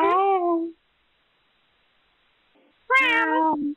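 A cat in a locker room lets out two clear, close meows, one at the start and one near the end, with silence between them.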